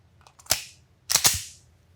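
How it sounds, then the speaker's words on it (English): A pistol has its magazine released and pulled out, and then its slide is racked, making a few sharp metallic clicks followed by two louder, close clacks from the slide. "press my magazine release and then pull the magazine out. Unload, rack the slide 2 to 3 times to ensure that it's empty"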